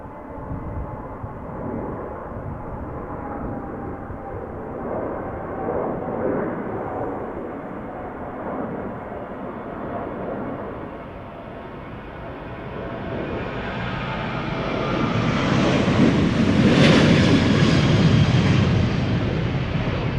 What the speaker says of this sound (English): Also a heavy taking off from center just now.